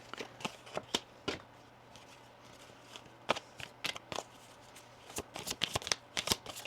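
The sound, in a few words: tarot cards being drawn and laid out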